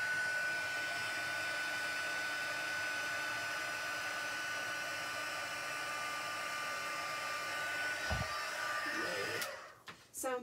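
A heat embossing tool blows hot air onto vellum in a steady, continuous whoosh that holds loud and close for most of the stretch, then cuts off near the end with a brief rustle.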